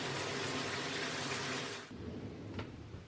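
Water from a cold shower runs in a loud, steady spray that cuts off abruptly partway through, leaving only quieter dripping and faint room noise.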